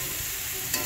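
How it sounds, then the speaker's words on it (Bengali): Cauliflower and potato pieces frying in hot oil in a pan, a steady broadband sizzle holding level throughout with a brief stir or spatter near the end. "ফুলকপি আলু ভাজা হয়ে গেছে"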